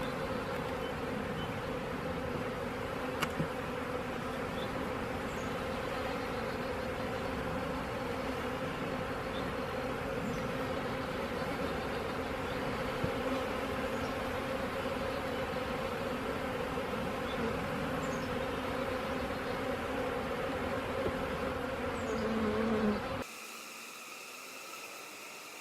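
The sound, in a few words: honeybees buzzing while installing a nuc into a hive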